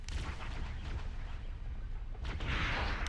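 Explosions and weapon fire in Halo: Combat Evolved on Xbox, a dense, continuous rumble of booms and blasts with a brighter burst near the end, no talk.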